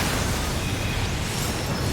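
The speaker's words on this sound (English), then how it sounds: "wait for that explosion" A booming explosion inside the online game Final Fantasy XIV, a dense, steady roar of low rumble and broadband noise sustained at close, loud level throughout with no voices.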